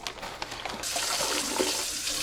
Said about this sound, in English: Take out the oxygen absorber and pour the water right in.